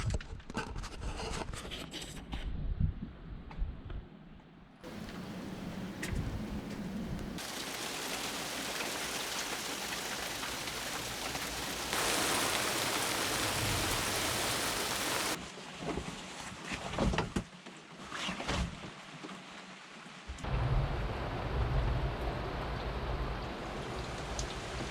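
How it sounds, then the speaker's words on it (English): Rain falls on a sailboat anchored in the Pearl Islands on a gloomy, stormy day, a steady hiss of drops that changes in character and loudness across several segments. "it's another gloomy, rainy, stormy day here in the Pearl Islands."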